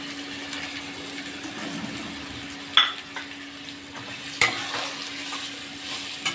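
Raw mango pieces sauté in a spiced mixture with salt and asafoetida for a quick pickle: a faint steady sizzle with occasional sharp scrapes and clinks of a spoon stirring against the pan.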